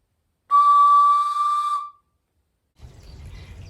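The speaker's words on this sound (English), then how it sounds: "Hey, I made a whistle." A homemade wooden whistle gives one loud, clear, steady tone lasting over a second, then stops, followed by faint rustling handling noise.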